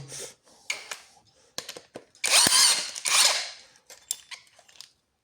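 Bursts of a power tool driving a nut during a suspension bearing replacement, several short rattling runs with a longer sustained burst in the middle, close and loud with no talk.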